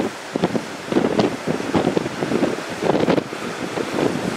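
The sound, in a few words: strong wind blowing on the microphone outdoors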